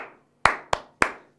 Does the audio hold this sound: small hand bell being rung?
no